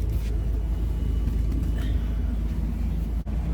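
A double-decker bus cruises along the Jagorawi toll road toward Bogor, heard from inside as a steady, loud, low engine and road rumble that fills the whole stretch without pause, with no voices.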